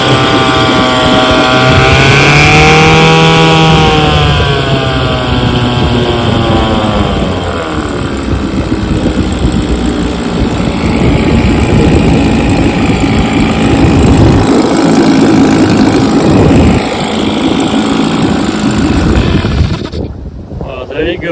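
A restored 1967 Johnson 3 HP outboard motor runs after carburetor repair, its engine note steady and loud throughout, wavering in pitch early on, then cutting off abruptly near the end.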